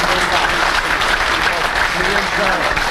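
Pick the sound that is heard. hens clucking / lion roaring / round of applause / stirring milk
round of applause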